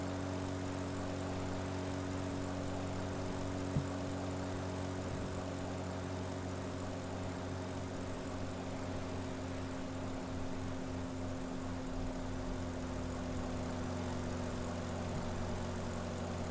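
A propeller-driven aerobatic plane drones steadily in flight inside Microsoft Flight Simulator, a constant engine hum with strong tonal bands that holds level throughout with no talk over it.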